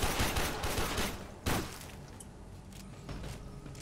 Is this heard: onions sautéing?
no